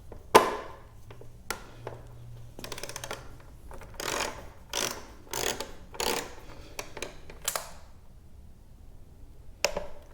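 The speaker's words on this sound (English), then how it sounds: "the only thing left is to torque the top two" A torque wrench ratchets and clicks while tightening the top front fender bolts on a Yamaha VMAX 1700 motorcycle, with a series of sharp, close mechanical clicks in irregular bursts and no talking.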